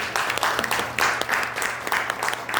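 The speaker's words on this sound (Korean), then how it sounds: "박수로 맞이해 주시기 바랍니다." An audience claps steadily to welcome a speaker at a lecture event, a dense, even wash of applause with a faint low hum underneath for the whole stretch.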